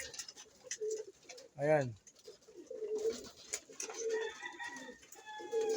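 Racing pigeons cooing in a loft, soft repeated low coos scattered across the scene with one louder nearby call, while a person briefly speaks.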